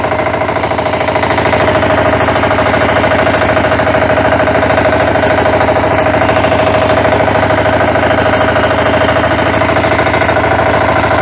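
Walk-behind tractor engine running steadily, a loud continuous close-up rumble with a regular pulsing drone throughout and no talking.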